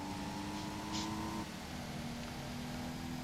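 Simulated Porsche 356 race cars accelerate hard in Need for Speed Porsche Unleashed, a steady layered engine drone with pitch shifts as the pack pulls away, loud and continuous with no voices.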